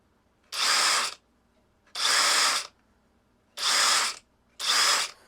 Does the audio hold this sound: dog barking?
no